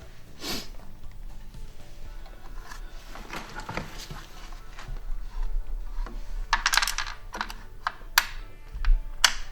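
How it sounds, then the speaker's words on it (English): A ratchet wrench tightens a nut while a RollerSki is fitted to a Pilot TS ski binding, giving scattered close metallic clicks and short ratcheting bursts that grow busier toward the end. "Use our ratchet. Put our nut."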